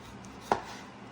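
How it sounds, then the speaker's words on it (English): One sharp knife cut through a tomato on a cutting board lands as a single close, crisp knock amid quiet kitchen background. "This is a really big slice, and I would recommend making it smaller. But it's all good. Just keep making slices."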